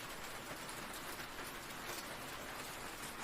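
Rain falls steadily outside a cabin in a thunderstorm, a soft continuous hiss at low volume, even and unbroken throughout with no voices.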